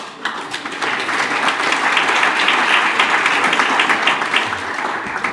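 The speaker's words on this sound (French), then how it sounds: "Je vous demande d'accueillir sur vos applaudissements" A crowd at a building-industry colloquium on indoor air quality in Brittany applauds to welcome a speaker, with loud, thick, continuous clapping that swells slightly in the middle and carries on without any talking.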